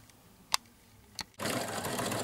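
A sewing machine topstitching dress straps starts up after two small clicks and runs steadily at speed, close and loud, with no voices.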